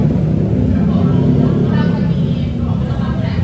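Steady, loud road traffic on a main beach road in Cha Am, Thailand, with a continuous low engine rumble and passing vehicles, heard while someone talks.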